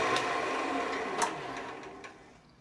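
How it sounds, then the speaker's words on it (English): Skew chisel rounding over the edge of a cherry wood candlestick on a lathe, a steady close whirring cut with a few ticking catches, fading slightly toward the end. "Now I'm just rounding over that edge for the lip of the insert. I'm using a skew for that."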